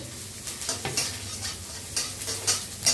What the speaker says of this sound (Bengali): এবার দিয়ে দেবো রসুন কুচি, এটা একটু ভাজা করে নিই